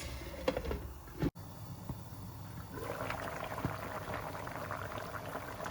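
Goat pepper soup simmering in a pot, a steady soft bubbling and gurgling that carries on throughout, with a brief knock near the start and no voices.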